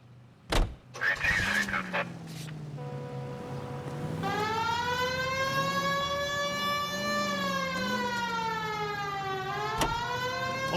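A police car siren wails in the video game L.A. Noire, rising in loud, steady tones after a brief burst of engine and game noise. The siren holds a continuous wavering pitch with a clear harmonic structure until the end.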